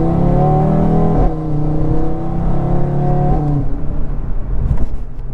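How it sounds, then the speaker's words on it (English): An Audi RS3's exhaust drones steadily close by at cruising revs as the car is driven, with slight pitch shifts as the engine note changes and no talk. "Let's see if you guys can hear some exhaust here."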